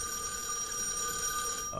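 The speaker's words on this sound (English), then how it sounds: "The phone's ringing." A telephone rings in the horror video game [REC] Paroxysm, a steady electronic bell tone sustained for a couple of seconds, fairly faint and alone with no talking.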